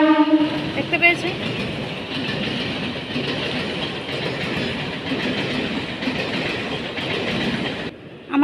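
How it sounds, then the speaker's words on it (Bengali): A train passes close by on a railway line, a loud continuous rumble with clattering wheels over most of the stretch and a brief horn near the start, fading abruptly at the end. "তো তোমরা ট্রেনের আওয়াজ নিশ্চয়ই পাচ্ছ। ওই দেখো ট্রেন আসছে।"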